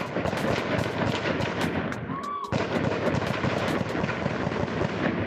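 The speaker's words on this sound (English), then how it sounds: "More than 40 gunshots can be heard." A dark-colored Kia Soul drives past on a street on a Friday evening while its occupants fire more than 40 gunshots, a loud, rapid volley of sharp cracks that breaks off for a moment midway and then resumes.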